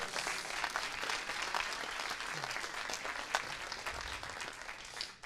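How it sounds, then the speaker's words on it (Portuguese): A church congregation claps in praise during a Portuguese-language service, steady, moderately distant applause filling the whole stretch at a fairly low level. "Louve a Jesus com as suas palmas"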